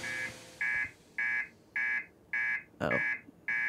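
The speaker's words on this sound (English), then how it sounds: "What's that beeping? I've never heard it beep like this." An alarm in the video game Outer Wilds beeps in a steady rhythm, about seven evenly spaced buzzing tones, sharp and clear, with a brief rustling noise near the end.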